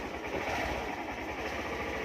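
A motorcycle engine ticking over in first gear, close by, with a low, steady, throbbing rumble and mechanical vibration, alone and unchanging.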